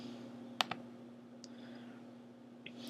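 A computer mouse clicks sharply twice in quick succession, followed by a few fainter clicks, over a steady low electrical hum with no talking.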